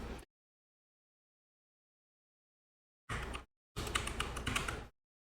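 Brief bursts of computer keyboard typing, a short tap cluster followed by a longer run of keystrokes, close and fairly quiet, with silence around them.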